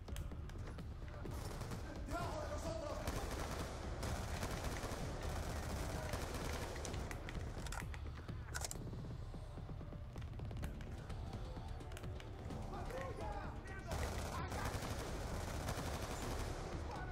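Rapid gunfire in the video game Call of Duty Black Ops 2 rattles almost continuously in dense, loud bursts, mixed with explosions and game noise, with someone speaking faintly in places.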